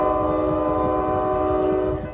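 Amtrak Capitol Corridor passenger train sounding its horn at Central Ave in Newark, California: a loud, close, sustained chord blast over the rumble of the passing train, no talk.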